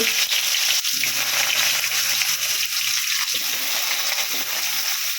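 Steady, loud sizzling as potato, carrot and other vegetables are added to hot oil with spices for Bengali shukto, a continuous frying hiss throughout.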